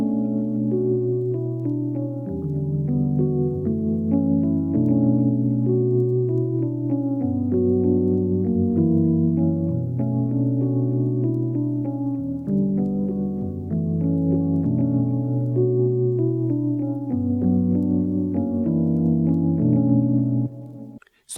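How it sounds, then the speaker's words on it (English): A smooth chord progression on a soft electric-keys instrument in FL Studio, for a 2000s R&B-style beat, with sustained chords changing every few seconds at a steady even loudness and nothing else heard. "So I started off with this progression in sky keys."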